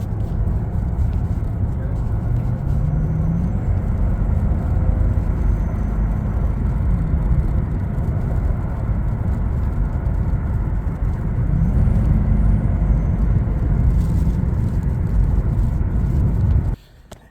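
A Toyota Tundra with a modified, cut exhaust drives along, its engine and exhaust making a steady low rumble with rising and falling revs before the sound drops away near the end.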